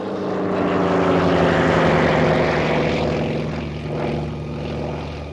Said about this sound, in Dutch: Boven de linies koerst een artilleriewaarnemingsvliegtuig.